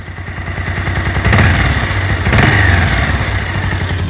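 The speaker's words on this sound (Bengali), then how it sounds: "ইঞ্জিনের সাউন্ড শুনুন।" A Bajaj Pulsar motorcycle engine, one with a gear noise fault in fourth and fifth, idles loud and close with a rapid even putter, rising twice in short revs before settling back.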